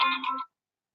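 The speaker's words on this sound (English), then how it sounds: "So we're going to take calls, phone ringing." A phone rings with a short, bright electronic ringtone burst lasting about half a second, then cuts to silence.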